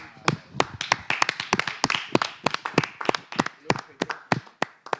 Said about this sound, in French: Ah, ça s'applaudit.